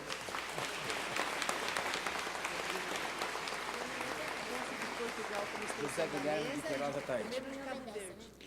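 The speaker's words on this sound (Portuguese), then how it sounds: "Uma salva de palmas a Dona Ieda também." Audience applause at a Portuguese-community honor ceremony for Dia de Portugal in Brazil, a dense steady clapping wash running the whole time with voices talking over it and some whistling-like tones near the end.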